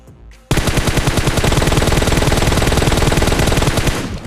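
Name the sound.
gunfire in video game PUBG Mobile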